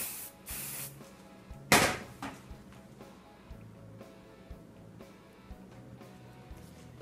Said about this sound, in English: you can use a little bit of hairspray just to make sure that these are not going anywhere